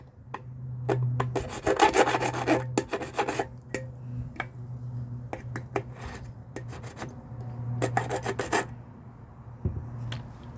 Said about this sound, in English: So just file it down and make it smooth.